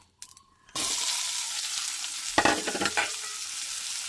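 Chopped onion and garlic hit a hot pan with a sudden loud sizzle that keeps up steadily, with a short burst of stirring scrapes midway and no talking.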